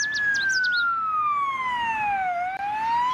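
Toy ambulance siren: a steady electronic wail sweeping slowly downward and then back up, with a few quick chirping blips at the start, close and loud with no talking.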